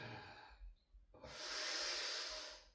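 A long, steady exhale during a seated yoga twist, a soft airy rush of breath that follows a brief quieter inhale and lingers close to the microphone.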